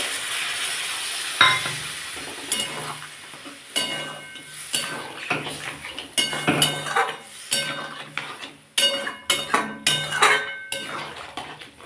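A potato, okra and bori curry sizzles and hisses in a pan after water is added, broken up by repeated clanks and scrapes of a utensil against the pan.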